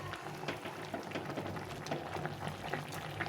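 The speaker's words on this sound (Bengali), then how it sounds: "দিয়ে আবার ভালো করে একটু ফুটিয়ে নিতে হবে।" Shukto, a Bengali vegetable curry cooked with milk and a little sugar, bubbles in a pan with soft, uneven popping and burbling that continues steadily and close by, with no talk.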